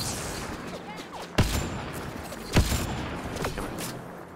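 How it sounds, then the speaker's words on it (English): Shots fired at a vehicle during a firefight in the Mass Effect Andromeda video game: two sharp gunshot cracks stand out over a constant noisy combat background, with fainter shots following. "Shooting our vehicle."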